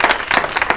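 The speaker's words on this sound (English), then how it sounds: "Give the Lord a hand clap of praise" A congregation clapping hands in praise at a church service, several quick sharp claps in a brisk rhythm, close and fairly loud, with no talking over them.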